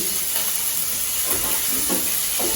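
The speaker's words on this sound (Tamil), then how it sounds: "இதை தீயை குறைச்சி வச்சுட்டு நிதானமாக வறுத்துருங்க" Lentils (dal) roast slowly in a pan over a low flame, giving a steady, close hissing sizzle with faint stirring scrapes and no voices.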